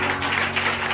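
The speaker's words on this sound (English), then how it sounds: "Can somebody clap Jesus now?" A congregation at a prophecy and healing church service claps in a dense, continuous burst of applause.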